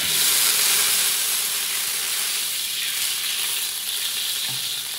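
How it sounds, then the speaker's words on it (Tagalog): Steady sizzling hiss of cooking oil heating in a hot pan, bright and continuous throughout, with no talking. "Pag mainit, maglalagay tayo ng mantika."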